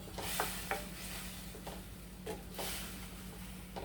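Steady sizzling of small onions, curry leaves and green chillies frying in hot oil with occasional stirring clinks, close by and continuous, no talking.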